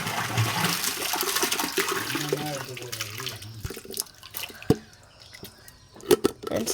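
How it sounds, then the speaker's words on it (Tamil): Water poured out of a fish tank, a continuous splashing gush that gradually tapers, with a few faint clinks and knocks near the end. "இப்போ அப்படியே அதை எடுத்து ஊற்ற வேண்டியதான்"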